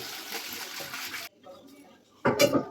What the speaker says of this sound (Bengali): বেগুনগুলো কেটে নিয়েছি, ভালো করে ধুয়ে নেবো